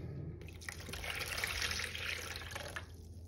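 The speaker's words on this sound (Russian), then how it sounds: "Так что сейчас мы нальем воду." Water trickles and splashes steadily into a bowl for sourdough bread dough for a few seconds, a continuous liquid pour with no talking.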